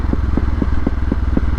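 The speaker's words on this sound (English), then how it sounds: "this exhaust just pops and bangs" An old motorcycle's exhaust pops and bangs in quick, regular bursts, about four a second, close and loud over a low engine rumble, with no talk.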